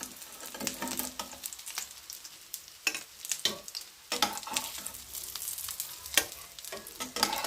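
Farm chicken coated with ginger, garlic and salt frying in a pan, crackling sizzle with irregular stirring scrapes and bursts, close and moderately quiet, no talk.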